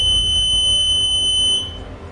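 A steady, piercing high electronic beep sounds continuously from an imaging machine as the process ends, over a low rumbling hum, fading slightly toward the close.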